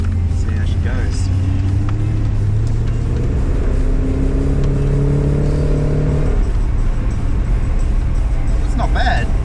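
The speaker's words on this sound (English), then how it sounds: "The only problem with this car is that it's completely standard, so the exhaust is standard, so it's very quiet." A stock-exhaust 1966 Chevrolet Corvette Sting Ray pulls away, its engine a steady low rumble with a couple of rising rev sweeps as it gathers speed, fairly quiet and continuous under light background noise.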